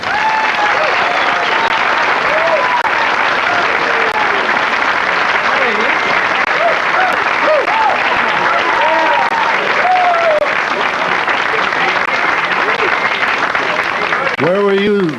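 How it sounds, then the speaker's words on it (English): Sustained, loud applause from a large studio audience greets a singer, a dense wash of clapping with scattered whoops, cheers and whistles throughout, continuing steadily for about fifteen seconds. "How about a wonderful round of applause for a great singer"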